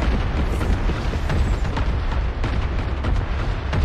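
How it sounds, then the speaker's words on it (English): Missile explosions in the video game Fortnite, heard as loud, continuous booming and rumbling blasts that overlap through the whole stretch, with no talk. "Watch out! Missiles!"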